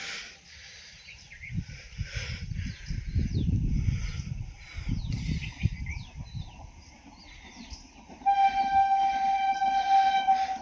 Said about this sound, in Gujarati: આપણે અહીંથી વંદે ભારત ટ્રેન નીકળે ને અહીંથી આગળ ચોખ્ખી દેખાશે